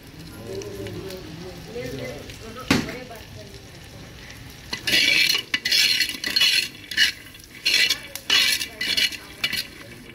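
A wild yam and groundnut dish being stirred and mixed in a pot, with low sizzling, then scraping and clinking spoon strokes in rhythmic bursts. A voice talks near the start.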